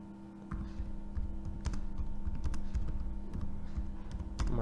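Computer keyboard typing while entering text on a trading chart: a quick, uneven run of close, crisp keystrokes over a steady low electrical hum.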